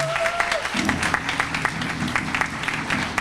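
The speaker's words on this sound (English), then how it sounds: "I just think we needed another round of applause." Audience applause at an annual adoption celebration, a dense wash of claps over a steady backdrop of tones and room noise, moderately loud and continuous.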